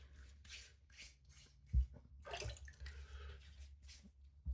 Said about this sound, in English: We'll wet the face.